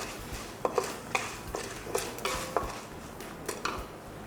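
Chopped coconut sautéed in a pan for uppu kozhukkattai, heard as repeated close clinks and scrapes of a spoon against the pan with a faint sizzle underneath, no talking.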